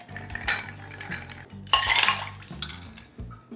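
Bar spoon stirring a cocktail over ice in a mixing glass, steady rhythmic clinking and rattling of ice for a few seconds, close and fairly quiet, with no talking.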